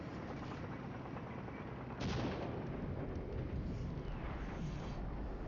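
Artillery fire in the game FCSS, a continuous loud rumbling barrage of blasts that surges sharply at about two seconds and keeps thundering with no voices.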